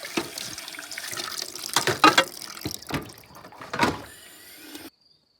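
Dishes rinsed outdoors under running water from a tap, with an uneven gush and splash that swells and fades in bursts before cutting off abruptly, close by.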